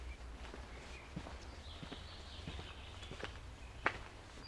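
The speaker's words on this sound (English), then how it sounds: "I can definitely hear someone else's footsteps." Irregular soft footsteps from another person walking in a quiet outdoor spot in Georgia, heard faintly over steady low wind and traffic rumble with a sharper step near the end.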